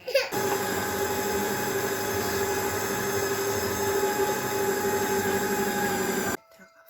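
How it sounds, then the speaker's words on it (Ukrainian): An electric meat grinder mincing zucchini whirs steadily and loudly with a grinding hum, then cuts off abruptly near the end. "Зараз будемо все це перекручувати на м'ясорубку."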